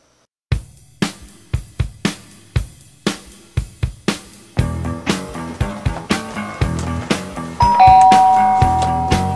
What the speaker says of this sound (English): Nobody ding dong ditches Chuck Norris!